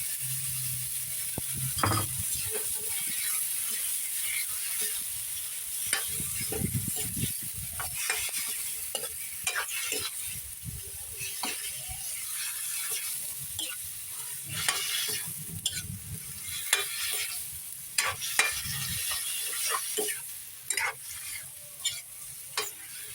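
Squid sisig frying in a wok-style pan, a continuous close sizzle broken by repeated scrapes and clacks of a spatula stirring the pieces.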